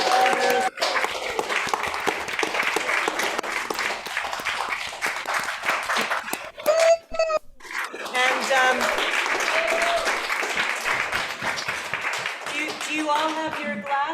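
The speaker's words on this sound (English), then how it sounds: "if we could all also show our appreciation to all the performers with one big round of applause" A large audience gives performers a long, sustained round of applause at a salon gathering, the clapping steady and dense throughout, with voices and brief cheers rising over it at moments.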